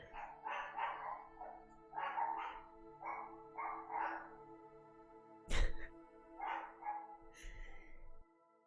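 Several dogs bark in repeated bursts of a few yaps each, clear and fairly close, with a sharp isolated clap or knock partway through and a steady low hum underneath.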